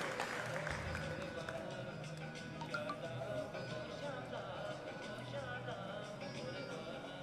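Sustained applause from an audience at a civil society ceremony in Burewala honoring a clean and green city campaign, a steady dense patter of many hands continuing evenly throughout with crowd murmur beneath.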